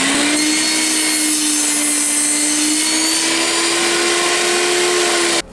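Power saw in a woodshop cutting a wooden brace, a loud continuous whine with a steady tone running for several seconds before stopping abruptly.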